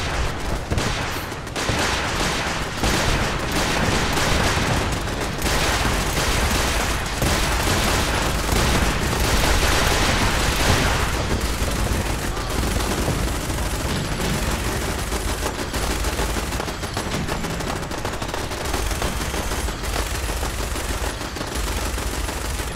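Sustained Fallout 4 battle at a castle defense, with dense, continuous machine-gun and rifle fire rattling loudly for the whole stretch, with no pauses.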